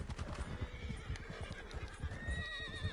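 Horses whinny and neigh with rhythmic hoof clip-clops in a PS4 video game, the sounds steady and fairly close, with high drawn-out whinnies rising toward the end and no talking.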